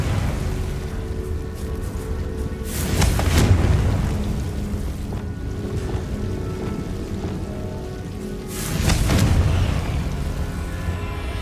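Two heavy blasting-spell explosions from Confringo in Hogwarts Legacy, each a broad booming burst about six seconds apart over a steady rumbling, rain-like game ambience.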